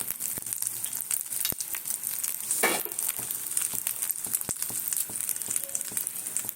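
Food fries in refined oil for a homemade tiffin snack, giving a steady close sizzle broken by sharp clicks of stirring and one brief rush of crackling.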